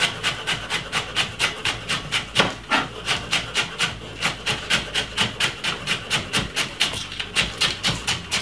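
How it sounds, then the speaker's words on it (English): A knife finely chops spring onion on a wooden cutting board, close by, in steady rapid strokes of about three per second with no talking. "Cut up some spring onion."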